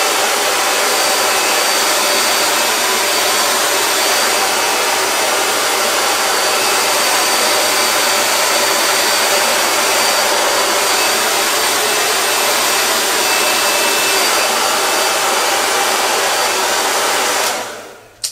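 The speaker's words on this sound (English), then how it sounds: "Take your hair dryer and you're just going to..." A hair dryer blows with a loud, steady roar and hiss for a long stretch, then cuts off abruptly at the end.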